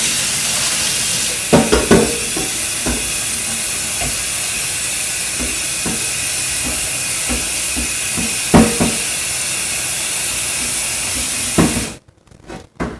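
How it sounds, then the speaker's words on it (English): A loud, steady hiss of boiling water and steam as broccoli cooks in a pot, with occasional clatters and bumps, ending abruptly. "start boiling my broccoli"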